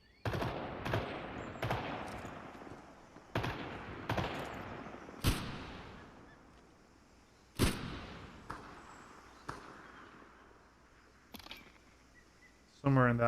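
Sharp gunshots crack out one at a time and in short bursts in the video game Star Citizen during a PVP match, spaced irregularly with fading tails, while someone talks over the action.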